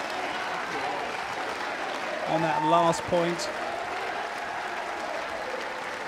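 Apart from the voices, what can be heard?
home crowd applauding at wheelchair tennis match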